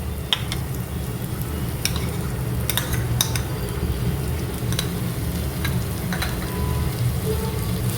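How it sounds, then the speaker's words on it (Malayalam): Spice masala powder for chickpea biryani being stirred in a hot pan, a steady close sizzle and frying hiss with repeated scraping and clinks of the spoon against the metal, no talking. "ഇത് അതിൻ്റെ ആ പച്ചമണം മാറുന്ന വരെ ഒന്ന് ഇളക്കുക"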